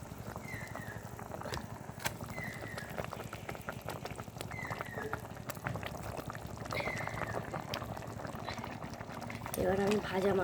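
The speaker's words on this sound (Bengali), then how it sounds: "সুন্দরভাবে ঝোলটা ফুটে গেছে" Fish curry gravy with poppy seed and mustard for bhetki bubbles in a pan, a soft continuous simmer with small pops beneath a person talking close by.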